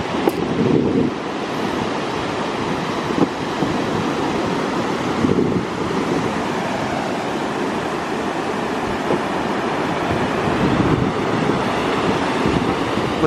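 Ocean surf washing steadily onto a beach where baby sea turtles are being released, a continuous loud roar of breaking waves with gusty wind buffeting the microphone, no voices.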